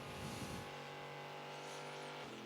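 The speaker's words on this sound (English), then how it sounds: "Bit more Corvette engine noise porn here." A Corvette endurance race car at full revs on the Kemmel Straight at Spa during the 2012 FIA WEC 6 Hours, a loud, steady, high-pitched engine howl with a harmonic whine, briefly rougher at the start, with no talk.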